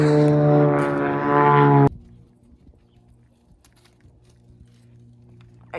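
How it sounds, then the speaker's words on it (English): Over a farm, an airplane makes a loud, steady droning engine tone for about two seconds, then cuts off abruptly, leaving near-quiet. "Airplanes."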